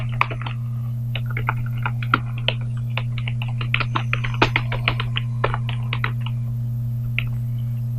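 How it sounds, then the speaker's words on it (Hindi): Someone types on a computer keyboard, a loud, quick, irregular run of key clicks over a steady low electrical hum. "जैसा कि मैं इधर टाइप कर देता हूँ कि"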